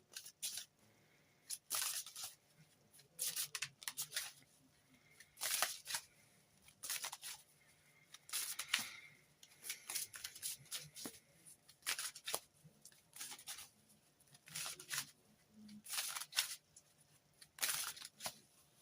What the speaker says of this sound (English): So let's choose our first card and get the reading underway.